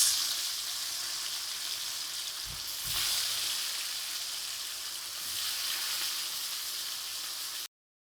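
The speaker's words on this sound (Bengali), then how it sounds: "ইলিশ মাছ ভাজা হচ্ছে" Hilsa fish fries in a pan with a steady, close, crackling sizzle that swells slightly midway before cutting off.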